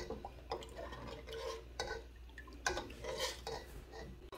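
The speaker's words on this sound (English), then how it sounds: "we're just making sure we stir it" A spoon scrapes and knocks softly against a pot while water is stirred as it heats for cottage cheese, giving quiet intermittent clinks and light sloshing.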